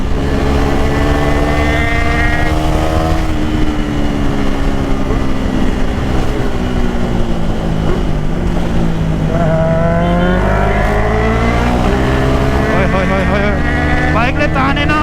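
A superbike roars on a highway ride as its engine climbs and falls through the revs with heavy wind rush, loud and continuous, while a rider talks over it.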